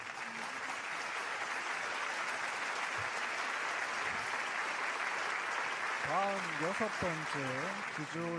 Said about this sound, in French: Acclamons une fois de plus le vice-président Ansari pour son discours très émouvant